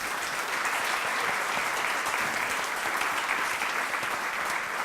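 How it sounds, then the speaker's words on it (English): A crowd claps steadily and loudly, a dense, continuous wash of applause with no voices standing out. "A big round of applause for all of them."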